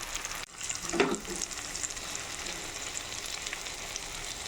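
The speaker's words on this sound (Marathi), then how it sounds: "तेलामध्ये बटाटे आणि टोमॅटो फ्राय होत आहे" Baby potatoes and chopped tomato fry in hot oil with a steady, close sizzle, broken early by a brief clatter of stirring.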